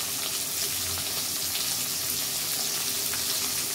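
Hilsa fish heads fry with chopped onion in a pan, giving a continuous close sizzle and crackle with faint watery splashes and no one talking.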